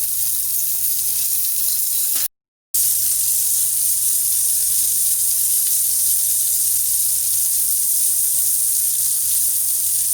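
Ginger garlic paste sizzles loudly in hot oil with potatoes and cauliflower, a steady, dense frying hiss that holds for the whole stretch apart from one brief dropout near the start.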